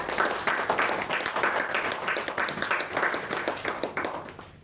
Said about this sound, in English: Give her a better clap.